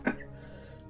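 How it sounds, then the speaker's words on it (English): A single short, sharp cough from a person at close range, fading quickly into quiet room tone. "I coughed so hard my headphones came off."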